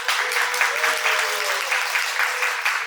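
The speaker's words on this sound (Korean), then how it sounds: "큰 박수로 맞아주시기 바랍니다" Audience applause greeting a researcher taking the stage at a Korean education policy forum, a steady, dense wash of clapping that holds evenly throughout with a faint tonal line beneath it.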